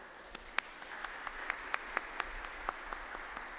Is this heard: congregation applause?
yes